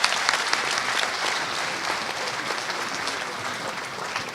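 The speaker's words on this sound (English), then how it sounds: "A better round of applause for the man, always a Rochas Okorocha." An audience applauds Nigerian politician Rochas Okorocha after a speech on change in a democratic setting, a dense, steady wash of clapping hands that holds at even strength for the whole stretch, with no voices over it.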